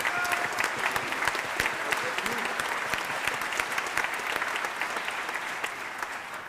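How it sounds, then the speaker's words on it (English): Audience applause at a tribute concert, sustained sharp clapping from a hall crowd that continues evenly throughout and tapers slightly at the end, with no talk over it. "how about a round of applause for Rich Daniels"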